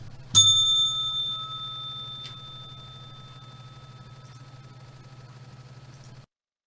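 A single bright bell strike rings out, its clear metallic tone sustaining and slowly decaying for several seconds before stopping abruptly, with a second faint tap partway through.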